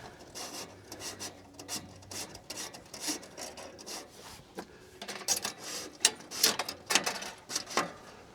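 A small-engine choke cable slides and rubs as it is fed through a little hole during a repair, producing irregular scraping and ticking sounds up close that grow busier toward the end.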